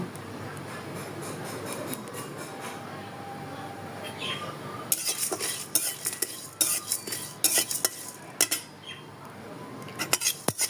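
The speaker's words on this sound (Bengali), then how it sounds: "এখন আমি দিয়ে দেব ধনিয়া আর জিরা, দুটো একসাথেই দিয়ে দেব। এগুলো ভালো করে ভেজে নেব।" Coriander and cumin stirred and fried together in a pan where chilies were just fried, with a faint sizzle under repeated metallic clinks and scrapes of a spoon that grow louder and more frequent midway.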